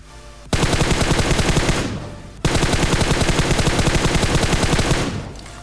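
Automatic gunfire from a battle royale shooter rattles out in two long, loud, rapid bursts separated by a short pause, each fading out at the end.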